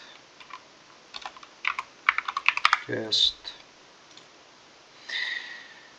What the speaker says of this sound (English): Let's see if I can type guest.